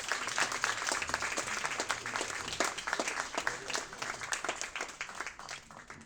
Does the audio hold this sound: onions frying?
no